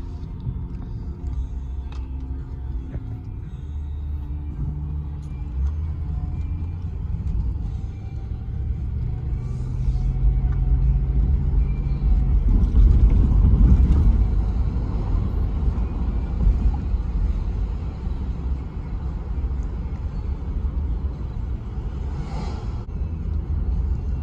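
A 220k-mile 1992 Lincoln Town Car Executive rumbles low and steady on a test drive, its engine and road noise swelling briefly midway before settling back, with no talk over it.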